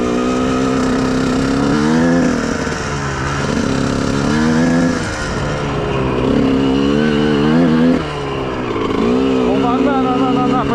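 A Honda CR125R dirt bike rides across sand. Its engine is close and loud, revving up and easing off in repeated surges, and someone talks over it.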